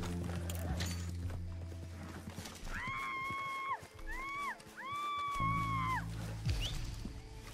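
A horse in Red Dead Redemption 2 neighing loudly in several drawn-out whinnies amid faint hoof clip-clops and background game sounds, heard up close.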